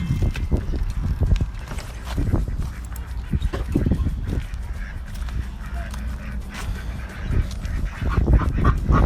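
Ducks call in a farm flock, harsh honking quacks repeating in bursts close by over a steady noisy background.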